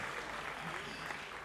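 An audience at a comedy show applauds in a steady, moderately distant wash of clapping that lasts the whole moment, with no voices standing out.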